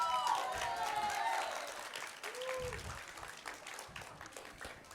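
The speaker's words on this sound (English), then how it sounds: "let's have a huge round of applause for all the teams for making it to the finals today" Applause for the finalist teams at a reading challenge grand finale quiz, a broad wash of clapping from an audience that is loudest at first and then eases off, with some voices mixed in.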